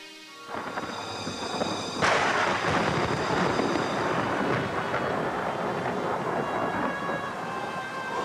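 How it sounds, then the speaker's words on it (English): A thunderstorm in an animated Brambly Hedge autumn and winter story, with steady heavy rain and a loud crack of thunder that rolls into a continuous rumbling wash. "A fierce storm was brewing, and Primrose was lost and alone."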